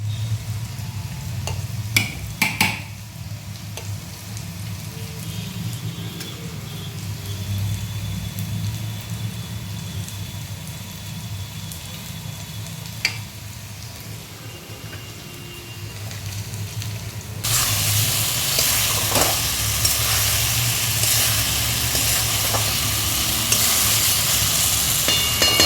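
An egg fries in a pan with a steady hissing sizzle that jumps noticeably louder partway through and then holds constant.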